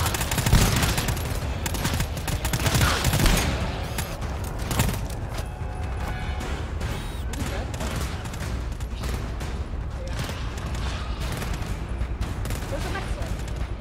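Sustained gunfire crackles in a Valorant match, a dense opening volley easing into steady, continuous shots, with players talking over the fighting.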